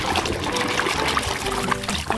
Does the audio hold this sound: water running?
yes